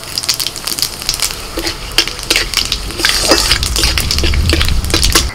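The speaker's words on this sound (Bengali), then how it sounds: "বেগুনটা ভেজে তুলে নিয়ে কড়াইতে ফোড়ন দিয়ে দিচ্ছি, শুকনো লঙ্কা, তেজপাতা" Dried red chillies and bay leaves sizzle in hot oil in a kadai, with loud, crackling spits and pops over a steady frying hiss, close and clear, no talking.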